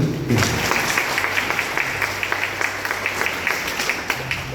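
A church congregation at a feast novena claps in welcome for Bishop Right Rev. Dr. Ambrose Puthuveettil, giving dense, moderately loud applause that holds steady and then gradually thins.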